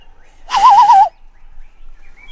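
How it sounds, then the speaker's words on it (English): A bird call played back from a clip, one loud warbling, trilled note about half a second long standing alone against near silence. "That bird back there. What are they saying?"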